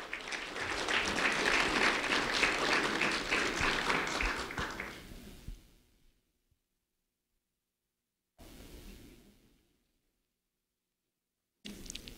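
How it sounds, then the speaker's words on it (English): Award-ceremony audience clapping for a first-grade student, a dense round of applause that fades out after about five seconds, followed by silence, a short second burst and a brief final snatch. "a round of applause for Ryder Wilson, please."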